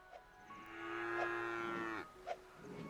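Cows in the video game Craftopia moo, with one long, drawn-out moo in the middle and a few short, soft thuds around it.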